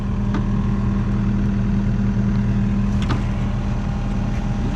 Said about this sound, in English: You want to go for a ride on the skid steer?